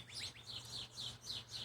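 Small birds such as house finches chirp outdoors in rapid, repeated bright phrases, about six bursts in quick succession, moderately near over a low steady background hum; no crows stand out.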